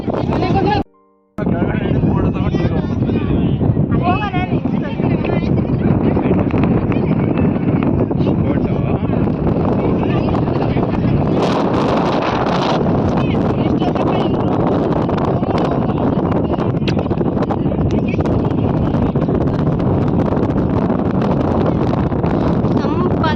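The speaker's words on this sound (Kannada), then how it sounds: "ಗಾಳಿ ತುಂಬ ಚೆನ್ನಾಗಿ ಬರ್ತಾ ಇದೆ." Strong wind on Mandaragiri hill in Tumakuru roars and buffets the microphone continuously, a loud, rushing rumble with no letup.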